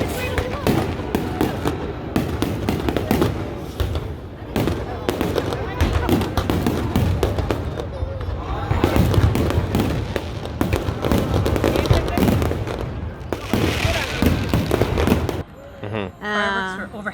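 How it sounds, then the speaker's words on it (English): Diwali fireworks bursting overhead in Amritsar: rapid crackling pops and booming explosions in dense, repeated volleys, with crowd voices and talk mixed underneath. "The fireworks show was incredible."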